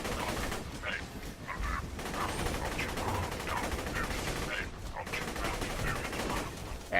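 Rapid gunfire from the Hail gun in the Borderlands 2 video game, a dense continuous stream of shots and impacts with game noise throughout and a voice talking over it at times.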